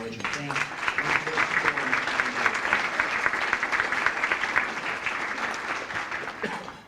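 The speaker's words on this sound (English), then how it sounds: "I'd like to ask for another round of applause just to acknowledge and thank their" Audience at a luncheon breaks into a sustained round of applause, a dense wash of many hands clapping that swells, holds steady, then tapers off near the end.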